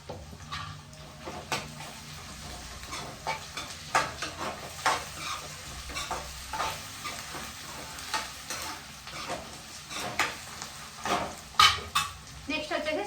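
Half a spoon of ginger paste frying in oil in a pan for sambar, a close, continuous sizzle broken by frequent rhythmic stirring and scraping clicks.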